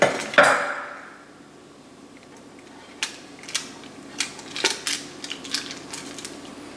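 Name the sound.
pan of chicken wings and potatoes being put into the oven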